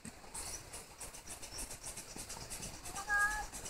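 A pet cat gives a short meow near the end, partly buried under a steady outdoor rumble and hiss during a morning walk.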